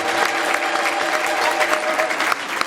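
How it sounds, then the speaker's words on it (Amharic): Congregation clapping together in a church during a baptism service, a steady, loud wash of many hands applauding at once with a faint voice beneath it. "እስቲ ለእግዚአብሔር ክብር አጨብጭቡለት።"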